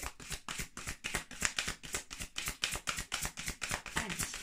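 Lise Bartoli oracle cards are shuffled close by in a quick, steady riffle of papery flutters and soft slaps that repeat evenly throughout.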